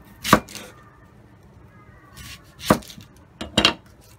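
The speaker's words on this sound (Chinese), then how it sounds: "洋葱咧就批咗頭尾。" A knife chops through the ends of an onion on a cutting board while prepping stir-fried sea cucumber with bell peppers: three sharp, separate knocks spaced a couple of seconds apart in a quiet kitchen.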